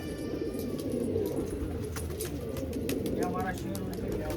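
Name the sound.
pigeon cooing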